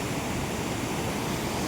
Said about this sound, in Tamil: அணையிலேருந்து திறந்து போகிற தண்ணி எப்படி போகுதுன்னு